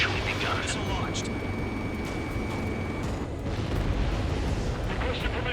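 Missile launches and explosions in the Ace Combat 7 video game form a continuous, loud, heavy roar and rumble throughout, with voices present in the mix.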